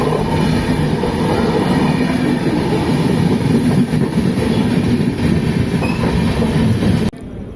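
The Seshadri Express rolls through a station near Bangalore without stopping, a loud continuous rumble with rhythmic wheel clatter and faint squeal, heard from on board for several seconds before the sound drops off.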